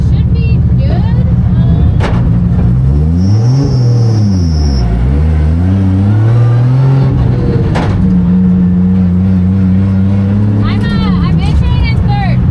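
A race car engine with nitrous and anti-lag revs hard and loud, its pitch sweeping down and back up, with sharp popping bangs at intervals and a voice speaking over the droning engine.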